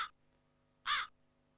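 Two short, harsh crow caws from a cartoon farm scene, close and clear, separated by a quiet gap of almost a second.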